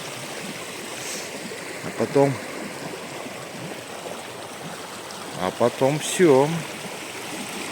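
A stream runs steadily in the background outdoors in Yakutia, a soft continuous rush of water while someone speaks briefly over it.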